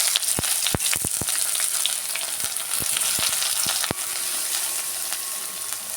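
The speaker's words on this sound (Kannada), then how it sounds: "ಈರುಳ್ಳಿ ಫ್ರೈ ಆಗಲಿ." Onion frying in hot oil with urad dal and mustard seeds in an Indian masala gravy: a steady, close sizzle with scattered sharp crackles and pops and no talking.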